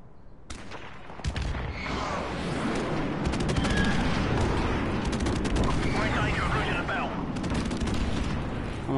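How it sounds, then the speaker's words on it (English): Gunfire and airstrike explosions fill a PS4 online shooter match, with dense, continuous bursts of shots and booms that stay loud and close throughout, a player's voice occasionally talking over the action. "Friendly airstrike on the way."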